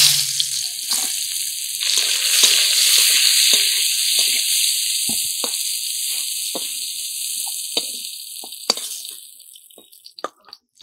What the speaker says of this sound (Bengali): মাছ ভাজার তেলে সবার প্রথমে কেটে রাখা ঝিঙ্গে গুলোকে ভেজে নেব।